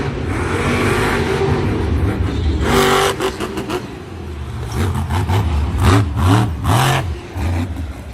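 Monster truck Dragonoid in a freestyle run at Monster Jam Santa Clara, its engine roaring loudly and revving in repeated surges and drops, close and without talk over it.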